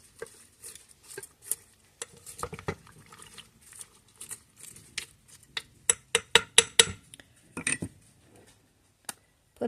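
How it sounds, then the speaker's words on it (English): Mac and cheese with Chipotle cheddar veggies is stirred in a Dash mini rice cooker, a string of close, irregular scraping and clicking taps of utensil against the pot, no talking. "Give it another stir."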